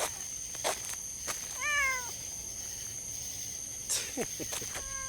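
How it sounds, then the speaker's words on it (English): A black cat meows a few times outdoors, short rising-falling calls spread apart, with light background noise and faint insect chirping. "He said, meow."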